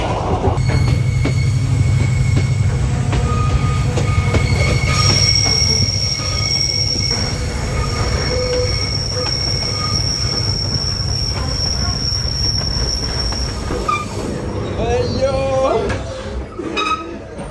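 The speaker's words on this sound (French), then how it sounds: "Le train il bouge d'une de ces manières" Night train rolling along the rails, a steady loud rumble with a sustained high wheel squeal and occasional creaks and clatter, with a voice speaking over it in places.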